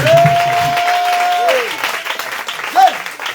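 Congregation at a church baptism service applauding in acclaim of the Lord, a continuous wash of clapping with a sustained tone and brief voices rising near the end.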